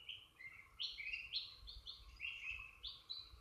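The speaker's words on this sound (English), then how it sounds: "Some birdies making a little bit of noise" Small birds chirp and tweet in a quick run of short, bright calls, faint and close together over a quiet indoor background.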